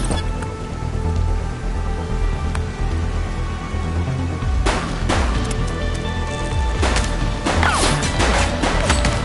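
Gunshots in the police video game The Precinct, several sharp bursts cracking out in the second half over a steady rain-like wash of background noise.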